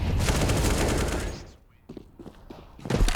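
Pistol gunfire in a professional CS:GO match on Dust2, a dense rapid volley of shots up close that breaks off into a few scattered, sharper single shots.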